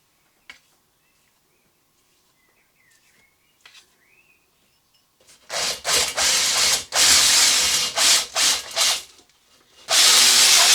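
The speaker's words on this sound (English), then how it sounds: "So the next thing to do before I clean it again is to hone the bore." A hone works inside an aluminium engine cylinder bore in bursts, rough loud grinding and scraping that starts and stops several times after a quiet stretch of faint clicks and squeaks.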